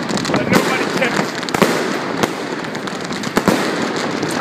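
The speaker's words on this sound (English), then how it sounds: "firecrackers in this area that nobody checks" New Year's firecrackers in Gothenburg pop and bang sporadically against a steady background roar, with several sharp cracks standing out.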